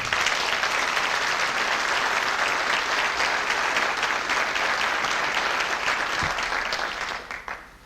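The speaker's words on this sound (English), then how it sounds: "applause." Sustained audience applause fills a hall at a school's 75th anniversary celebration, a dense steady wash of many hands clapping that tapers off at the end.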